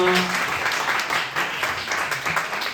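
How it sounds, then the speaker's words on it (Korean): A congregation at a Korean high school Sunday worship service applauds, a dense, steady wash of many hands clapping in a room, with a voice audible underneath at the start. "정말 큰 박수 부탁드립니다"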